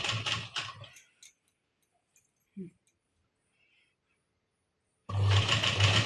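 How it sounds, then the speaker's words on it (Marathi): A sewing machine stitching a garment sleeve, a loud, fast mechanical whirr in a short burst at the start and again at the end, separated by near silence with a few faint clicks. "आता आपण ही शिलाई मारून घ्यायची।"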